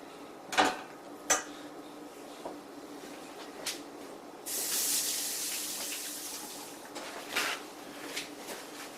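Tap water runs into a kitchen sink for a few seconds as hands are washed, a steady hissing stream set between scattered clinks of dishes and utensils.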